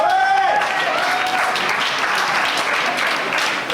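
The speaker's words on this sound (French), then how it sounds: "je vous demande d'applaudir bien fort" A conference audience at an allies' assembly breaks into loud, sustained applause, dense clapping filling the room without letup.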